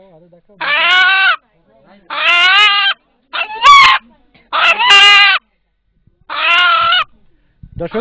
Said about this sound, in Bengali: এখানে উপস্থিত যারা এই মোরদের ডাক শুনলেন